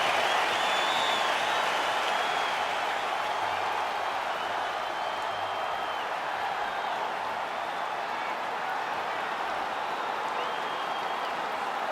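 A capacity arena crowd roars steadily in a UFC 5 Fight Night video game before a Makhachev versus Imavov welterweight championship bout, a dense, unbroken wash of cheering at constant loudness with no clear voices.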